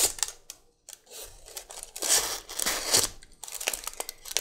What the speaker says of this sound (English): Another standard test of mine, the junk mail cut.